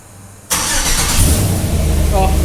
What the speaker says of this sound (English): I want to see what this thing sounds like with the H-pipe with it on the ground